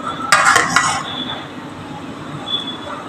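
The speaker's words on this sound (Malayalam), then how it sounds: "ഉള്ളി അതിലേക്ക് ഇട്ട് കൊടുക്കാം." Onion goes into hot coconut oil in a pan with a sudden scrape and clatter, followed by a soft, steady sizzle in a home kitchen.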